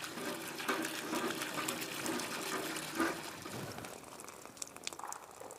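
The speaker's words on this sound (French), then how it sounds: "Comme tous les matins, sa fille Zainab, 10 ans, s'affaire au puits" Water is drawn and poured at a village well in rural Afghanistan, a continuous splashing and gushing with a few clunks at intervals, moderately close and fading slightly near the end.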